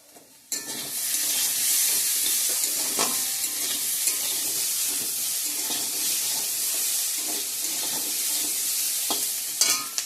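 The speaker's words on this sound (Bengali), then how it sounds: "তো আলু ভাজাটা হতে থাক, পরে আসছি আবার।" Potatoes and soybean frying in a pan, a close, steady hiss and sizzle broken by the clatter and scrape of stirring, continuous throughout with a few sharper bumps near the end and no talking.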